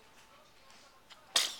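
A small child's sneeze at home, one short sharp burst at the end after quiet room tone.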